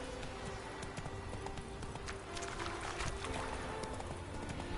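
Horse hooves clip-clop at a gallop in the video game Witcher 3, a quick, steady drumming of hoofbeats with a faint ambient backdrop.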